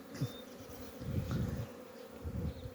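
Honeybees at an apiary hum in a low, continuous buzz, the drone swelling and easing slightly as insects fly close by.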